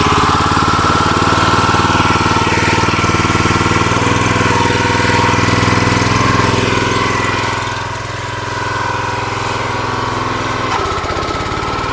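A small engine on a log splitter runs at about quarter throttle, a loud, continuous close-up chugging drone that dips slightly in level partway through before settling again.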